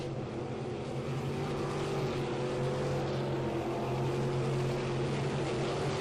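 GM 602 crate race cars roar steadily around a short oval track, engines droning loud and continuous as a pack runs down the back stretch, with no voices over the engine noise.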